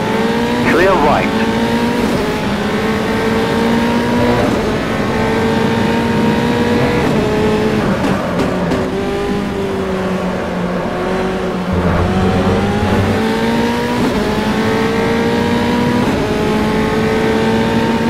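A Formula 3 race car in the Automobilista racing game, driven at Interlagos, screams continuously at high revs with rising and falling gear changes and brief tire squeal, loud and close throughout, while a radio spotter voice talks over it.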